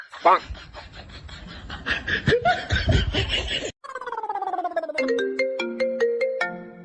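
A mobile phone ringtone plays a bright descending melodic tune, following a stretch of laughter and giggling from people nearby.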